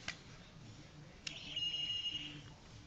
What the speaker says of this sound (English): it beeps when you press this button